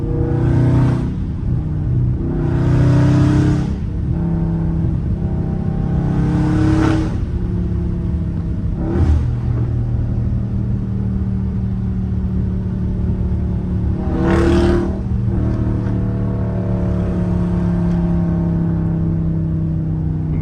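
A Dodge Scat Pack engine rumbles low and steady, punctuated by several loud revving bursts that ring and echo briefly before settling back.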